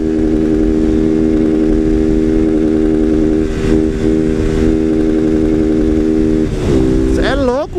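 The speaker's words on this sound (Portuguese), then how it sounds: "Esse escapamento corta de giro bonito, hein?" Honda Titan 160 motorcycle with an open, filterless exhaust revs hard and steadily, its loud buzzing note rising sharply near the end, while a person talks over it.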